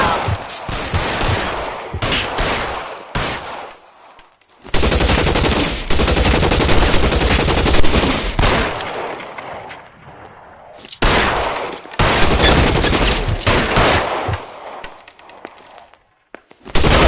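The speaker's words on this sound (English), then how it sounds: "Shots fired." A police shootout in L.A. Noire erupts in loud bursts of rapid gunfire, dense volleys separated by short quiet gaps, firing, pausing, then resuming in long sustained strings.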